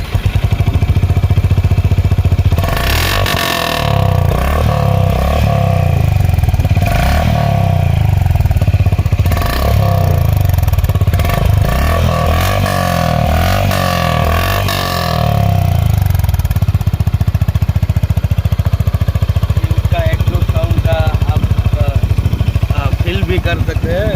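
A 2023 Honda H'ness CB350 retro motorcycle's single-cylinder engine and exhaust thump loudly and steadily up close, revving in bursts midway before settling back to a continuous idle, with someone talking over it.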